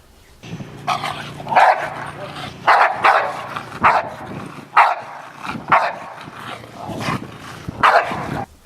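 A protection-trained dog barks in repeated sharp bursts at an aggressor during protection work, loud and close, with a low mechanical drone and a little background voice between barks.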